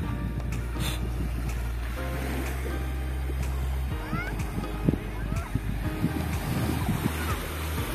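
Sea waves wash right beside houses in a coastal village struck by Typhoon Yolanda, a continuous nearby surf with wind and a low rumble, and faint voices in the background.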